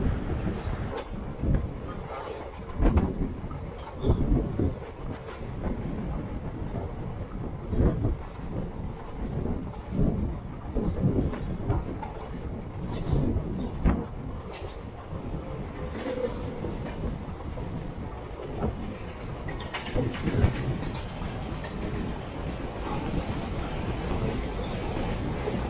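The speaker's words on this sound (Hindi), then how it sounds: "ट्रेन पूरी रफ्तार के साथ रेलवे स्टेशन को पार कर रही है" The Narmada Express, train number 18233 between Shahdol and Bilaspur, runs at full speed past Khodri railway station, with a loud, steady rumble and repeated clickety-clack wheel beats heard from on board over about 25 seconds.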